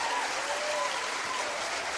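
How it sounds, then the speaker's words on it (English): Audience clapping together in a steady, dense round of applause, even and continuous, with faint voices mixed in. "let's clap for today being day 57"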